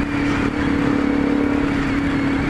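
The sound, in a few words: motorcycle engine idling at low rpm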